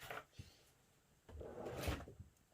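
A craft-supply drawer slides open with a woody scrape and a brief knock, followed by a longer rubbing slide, close and fairly quiet with no voices.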